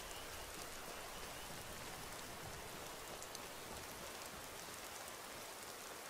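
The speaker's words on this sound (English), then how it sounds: "Well, this isn't a bad rain." Steady, dense hiss of rain falling evenly in the video game Skyrim Special Edition, uniform and unbroken throughout, with no voices.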